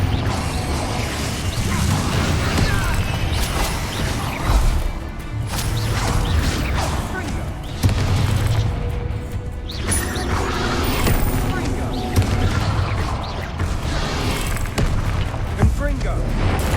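Confringo fire spell explosions in the video game Hogwarts Legacy make a dense, continuous barrage of booming blasts, crashes and mechanical clatter, with voices mixed into the din.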